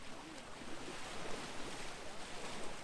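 Calm Mediterranean sea lapping at a Costa del Sol beach, a steady low hiss of small waves nearby mixed with light wind buffeting on the microphone.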